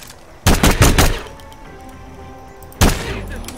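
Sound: gunfire from a weapon in video game Hitman 2

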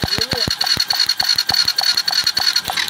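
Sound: motorcycle engine starting after spark plug test

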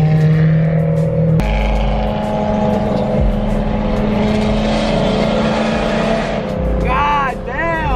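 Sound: Lamborghini Aventador engine revving

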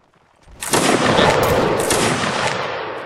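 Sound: musket volley fire, video game Mount and Blade Warband Napoleonic Wars

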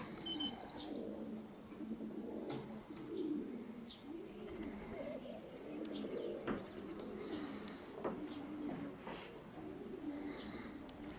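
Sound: pigeons cooing while picking up grains

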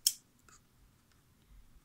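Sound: scissors cutting paper

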